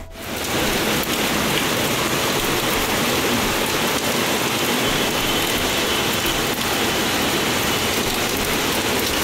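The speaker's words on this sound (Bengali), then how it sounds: "তারপরে দেখো আবার কি বৃষ্টি নেমেছে" Heavy rain pouring down outdoors, a dense, loud, unbroken hiss of drops on surfaces starting abruptly and continuing steadily throughout, with no talk.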